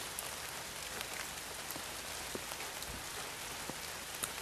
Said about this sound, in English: The rain's going to try to dilute it